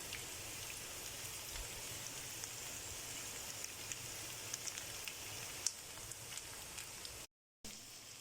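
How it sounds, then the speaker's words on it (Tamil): Curry leaves dropped into a vegetable fry on a hot tawa give a steady, dense sizzle and crackle that runs throughout, with scattered sharper pops and a brief dropout near the end. "இப்போ இதில் நம்ம கொஞ்சம் கருவேப்பிலை போட்டுக்கிறேன்"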